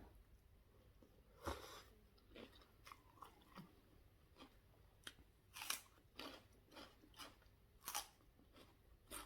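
Crunchy chewing of beef kebab, close up, a run of irregular crisp bites and crunches spread across the clip at moderate level, with no talking.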